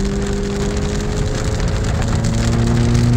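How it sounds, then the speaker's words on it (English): Heavy monsoon-like rain pours down at Big Bear, California, a dense, loud, continuous patter of drops drumming on surfaces, with a low steady hum beneath. "Just a few hours of heavy rain like this."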